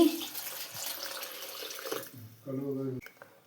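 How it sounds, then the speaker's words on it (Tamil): Water poured and splashing in a bowl while washing anchovy fish, a steady close running trickle, with a voice speaking over the end. "கொஞ்சம் தண்ணி ஊற்றி"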